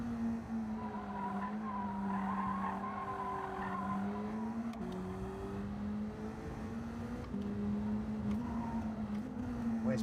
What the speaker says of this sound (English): Just caught the wall and it bounced me across him.